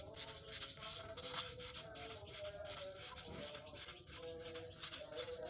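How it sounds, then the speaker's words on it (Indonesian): Rapid back-and-forth scraping of sandpaper rubbed by hand inside a used motorcycle engine cylinder block, a steady rhythmic rasp close up with no talking. "Langsung kita amplas dalamnya guys ya, cuman pakai jari aja"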